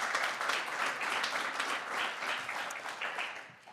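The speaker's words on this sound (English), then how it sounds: "round of applause to our fellows before they even start" Audience applause for competition fellows at a real estate pitch competition finals, a dense, steady clapping from a crowd that gradually tapers toward the end.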